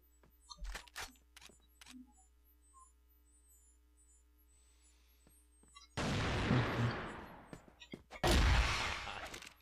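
Video game gunfire in CrossFire: a few sharp shots early over a low electrical hum, then two loud bursts of sustained firing later on.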